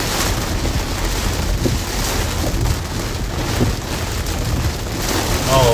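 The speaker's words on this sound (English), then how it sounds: "Florida rain showers and thunders in" Steady, loud heavy rain drums on a car during a severe Florida thunderstorm, a dense unbroken wash from start to finish with low rumbling underneath.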